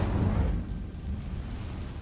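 A fiery burst from the Incendio spell cast in a Harry Potter wizarding-school video game: a loud, rumbling whoosh up front that settles into a low, sustained roar for the remaining moments, with no voices.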